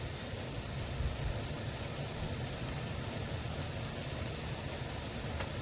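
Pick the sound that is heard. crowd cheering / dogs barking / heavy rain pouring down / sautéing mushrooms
heavy rain pouring down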